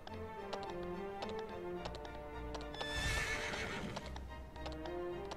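A horse in the video game Dragon Quest XI clip-clops rhythmically and gives a loud whinny partway through, hoofbeats continuing steadily around it against a game soundtrack.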